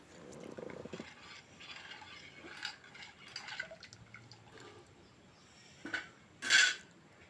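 Quiet scraping and clinking of a spoon stirring mango fish curry in a pot, with a few louder metallic clanks near the end.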